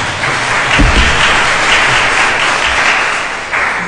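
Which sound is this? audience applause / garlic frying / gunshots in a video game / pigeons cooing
audience applause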